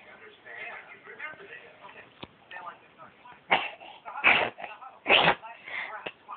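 Several close sneezes come in quick succession, the last two loudest and sharpest, with soft speech and small movement noises in between.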